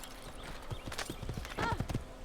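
Hooves clip-clop in a quick uneven rhythm, followed by a short horse whinny, with game-like ambience in the background, from the video game Assassin's Creed.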